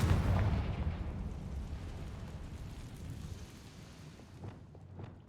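Blasting Confringo spell explosion in Hogwarts Legacy, a loud rumbling boom at the start that decays into a long crackling roar, with a few smaller bursts near the end.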